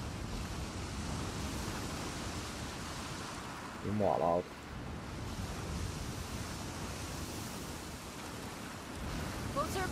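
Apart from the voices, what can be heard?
flowing water in sewers, from video game The Last of Us 2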